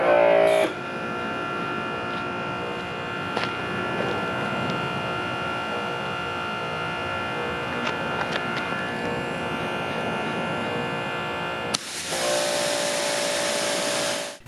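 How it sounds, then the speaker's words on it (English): Ryobi 2300 PSI pressure washer spraying water at about 2200 PSI from the gun, a steady loud hissing roar with a motor hum underneath that runs unbroken for several seconds, then cuts off briefly and surges back. "The Ryobi 2300 pressure washer quickly builds to about 2200 PSI at the gun."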